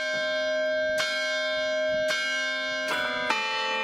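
Carillon bells in a steel-framed limestone tower, played manually by a carillonneur, ring out loud and clear with four struck notes, each blooming into a long, sustained, overlapping resonance.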